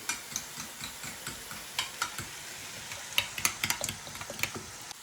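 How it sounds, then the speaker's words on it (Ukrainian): Burger sauce ingredients being stirred, a rapid series of soft clicking and scraping taps against the bowl, close and fairly quiet, with no talk. "Тепер гарненько це все перемішуємо"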